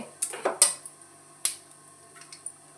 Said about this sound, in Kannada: ಈಗ ಎಣ್ಣೆ ಕಾಯ್ತು, ನಾನೀಗ ಸಾಸಿವೆ ಹಾಕ್ತೇನೆ. ಸಾಸಿವೆ ಹಾಕಿದೆ